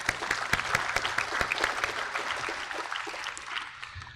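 Audience applause for an honoree at a Forty under 40 awards event: a crowd claps steadily for about four seconds, sounding soft and somewhat distant, with a few sharper claps standing out and no speech.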